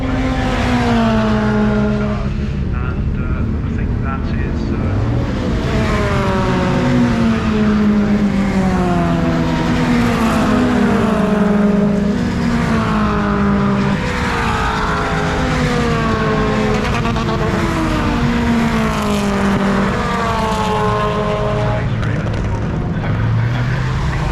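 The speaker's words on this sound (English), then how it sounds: "hopefully we can hear some engine action over the commentary" Classic MG and Triumph car engines revving and running at an outdoor MG/Triumph 100 show, a steady loud mechanical drone with rising and falling pitch sweeps, partly under amplified commentary from public address speakers.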